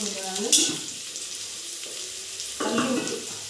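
Onions sautéing in hot oil in a pan for chicken biryani, a soft steady sizzle with a couple of brief stirring scrapes near the mic, no talk.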